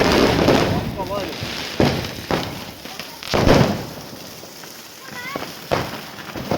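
Firecrackers bursting during a festive night gathering, several sharp cracks and bangs spaced irregularly, fairly close, with people talking throughout.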